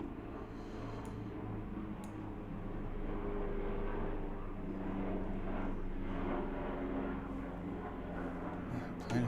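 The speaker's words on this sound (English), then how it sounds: "plane is so loud." A fixed-wing airplane passes overhead with a loud, steady engine drone that swells slightly midway and persists throughout, with no talk over it.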